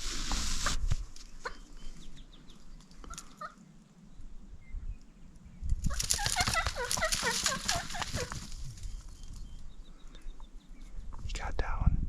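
Wild turkeys gobble from a roost on a Montana ridge, with a loud, rattling burst partway through and fainter gobbles elsewhere. Hushed whispering carries on nearby, close to the listener.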